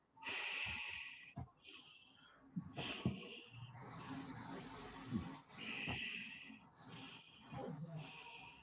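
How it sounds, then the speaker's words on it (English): Deep, long breathing during an evening yoga class, a series of slow inhales and exhales with audible hissing airflow, close and quiet, several full breath cycles with no talking. "And again with deep long breathing,"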